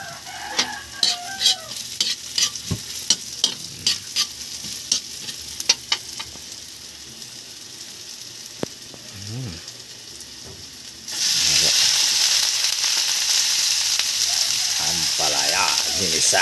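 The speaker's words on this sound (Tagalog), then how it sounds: "Ampalaya ginisa." Bitter gourd (ampalaya) being sautéed in a pan: scattered clicks and scrapes of stirring, then a loud, steady sizzle as the gourd hits the hot oil, continuing with faint stirring.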